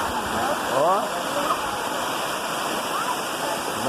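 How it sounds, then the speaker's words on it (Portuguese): Waterfall at Serra do Roncador in Saquarema, a steady broadband rush of falling water heard up close, with people talking over it now and then. "Queda d'água bonita lá."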